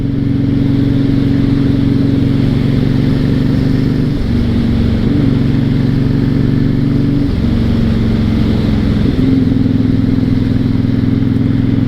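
A 2006 Honda VTX1300 motorcycle cruises at about 60 mph, its engine droning loudly and steadily with a few brief pitch dips as the throttle shifts, wind noise underneath, no talk.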